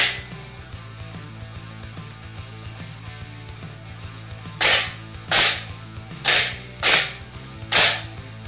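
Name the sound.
homemade coil gun firing a nail at a fixed can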